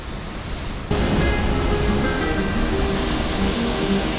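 After a quieter start, the Athirappilly waterfall surges in as a loud, continuous roar of rushing water that holds steady to the end.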